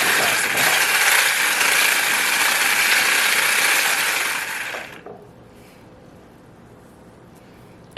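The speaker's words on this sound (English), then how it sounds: "we are whisking our pudding, as you can see, and I'm trying to whisk it slow" An electric whisk runs on its slowest setting through banana pudding, giving a loud, steady whirring rattle that cuts off abruptly after about five seconds and leaves near silence.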